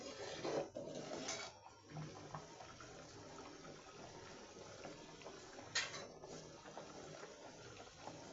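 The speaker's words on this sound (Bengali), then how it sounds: "এই যে বলক উঠে গেছে, এখন এভাবে হতে থাকবে" Water comes to a rolling boil in a cooking pot for yellow rice, a faint, steady bubbling broken by a couple of brief, louder splashy bursts.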